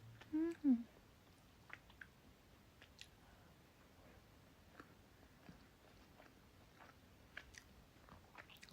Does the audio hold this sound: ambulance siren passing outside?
no